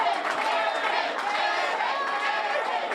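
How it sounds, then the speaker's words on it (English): An enthusiastic crowd of supporters packs a city hall hallway, a dense, continuous murmur of chatter and overlapping voices at close range with no break. "Welcomed with an enthusiastic crowd"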